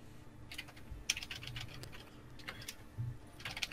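Quick bursts of computer keyboard typing, a handful of light clicks in uneven clusters, heard close and fairly faint over a low background hum.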